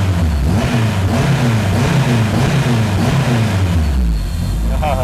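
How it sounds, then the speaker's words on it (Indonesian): A turbocharged K24 engine swapped into a Honda Civic Estilo revs repeatedly in loud, close bursts, the pitch rising and falling in quick waves before settling toward idle, with a voice heard faintly alongside. "Engine-nya respon banget ya."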